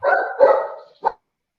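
A dog barks from the back of a room, two quick barks close together and then a third short one, loud and alone with no talk over them.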